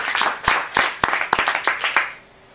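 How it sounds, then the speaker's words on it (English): Conference audience applauding at a clean water conference, a burst of sharp claps with distinct individual hand claps scattered through, fairly close and lively, then trailing off quickly. "Round of applause."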